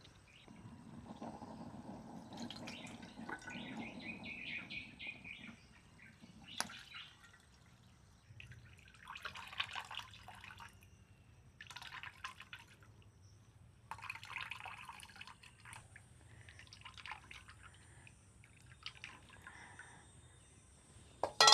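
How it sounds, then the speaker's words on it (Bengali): Homemade ghee strained through a kitchen strainer, giving soft, intermittent liquid drips and trickles that are faint and close, with no talking. "এবারে ঘিটাকে ছেঁকে নিতে হবে এবারে ঘিটা ছেঁকে নেবো"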